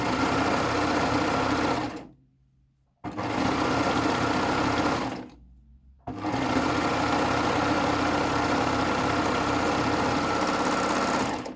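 An overlock serger stitches fabric with a loud, fast mechanical whir, running in three bursts separated by two short stops, the last run long and steady.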